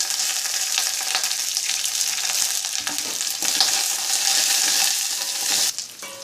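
Garlic, curry leaves and tempering spices for tomato dal fry in hot oil with a continuous bright sizzle and spatter, a few scraping stirs midway, dropping off sharply at the end; close and loud, no speech.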